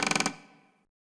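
A door mechanism creaking open in the adventure game Ankh: a rapid burst of about six ratcheting clicks, then a fading mechanical rumble that dies away within a second, heard alone.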